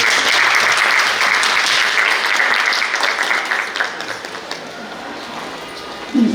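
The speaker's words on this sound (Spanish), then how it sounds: "Un aplauso, por favor." An audience at an artistic presentation gives a round of sustained applause. Dense, loud clapping fills the room at first, then gradually tapers off toward the end.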